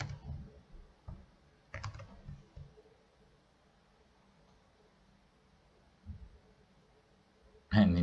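Computer keyboard typing during a coding session, with a few short bursts of keystrokes at the start, a quiet stretch in between and a sharper louder burst near the end, close to the listener.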